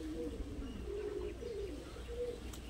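Madrasi pigeons cooing nearby, with low rolling coos repeating in several soft phrases over a steady background hum, and no voices.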